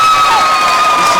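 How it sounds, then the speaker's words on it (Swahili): A school gathering applauds and cheers an honoured guest, loud continuous crowd noise with a steady whistle-like tone running through it and no clear speech on top. "Pigieni mheshimiwa makofi."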